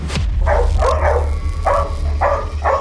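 A large, dangerous pack-leader dog barks loudly nearby, four or five deep barks spaced roughly half a second apart over a steady low background hum.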